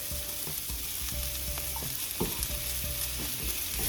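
Garlic sizzling and frying with asparagus in a pan, a steady loud hiss with occasional stirring clinks and scrapes close up.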